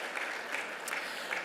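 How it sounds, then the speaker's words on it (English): Steady applause from a Hall of Fame ceremony audience, a dense wash of clapping hands that holds evenly for a second and a half with no voices on top. "Another round of applause for Corey G. Johnson."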